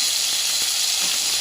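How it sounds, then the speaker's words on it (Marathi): Paneer fries in a little oil in a kadhai with a loud, continuous close-up sizzle and hiss, with no voices over it. "तर मी एका कढाईत थोडंसं तेल टाकून पनीर भाजून घेत आहे."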